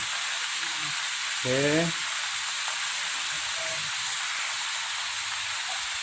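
Steady loud sizzling of jackfruit vegetables stir-frying in a pan, with a brief voice-like tone near the start and faint scraping.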